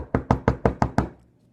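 Six quick, evenly spaced knocks rap on a door, close and crisp, then fade into silence.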